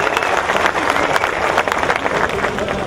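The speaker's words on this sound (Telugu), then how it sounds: "మన విద్యుత్ కళాకారునికి మరొక్కసారి చప్పట్లతో ఆశీర్వదించాల్సిందే" Crowd at a Telangana rally clapping loudly for an electricity-worker artist, a dense, continuous burst of applause with scattered voices and cheers underneath.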